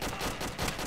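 Gunfire in a first-person shooter game, dense rapid bursts of shots packed into under a second, loud and close, no talking.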